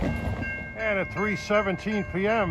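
A passenger train running between Port Jervis and Hoboken passes through Ramsey, NJ without stopping, sounding a sequence of loud, close horn blasts in a broken rhythm, with someone talking briefly beforehand.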